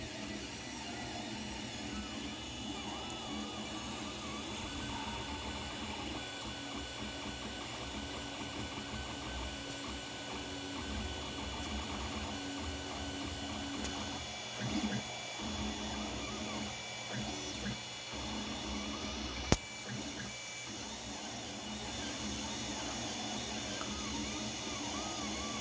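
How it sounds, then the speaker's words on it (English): An Ender 3 Pro 3D printer running a print at 93% speed, giving a steady, continuous mechanical whir and buzz of stepper motors and fans close by, with small shifts in tone and no speech. "It's been printing out for about 3 hours."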